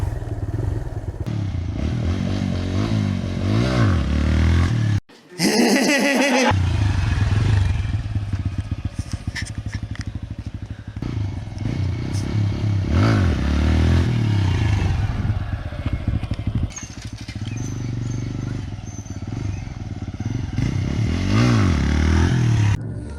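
A motorcycle engine runs and revs loudly throughout during a wheelie attempt, with a brief drop near five seconds and rattling clatter over the steady drone.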